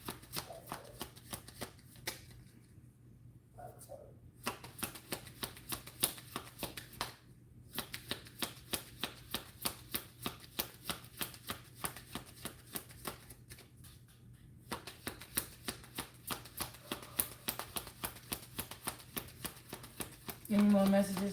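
Cards are shuffled again and again in rapid riffling bursts, crisp and close, broken by brief pauses between rounds.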